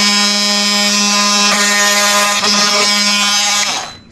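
Power tool cutting through nails in a rotted wood soffit during fascia repair, a loud, harsh, tonal grinding whine that holds steady for several seconds, then stops and winds down.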